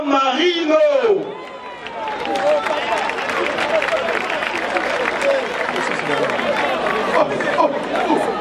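An audience at a live stage show applauds and cheers the duo San Marino, with a steady wash of clapping and crowd chatter that follows a brief announcer's voice at the start.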